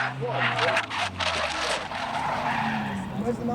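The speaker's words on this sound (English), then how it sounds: "we've got a car that's spun" A race car spins on the circuit at Donington Park during an MSVR race, its tyres skidding and squealing loudly alongside engine noise, while a commentator talks over it.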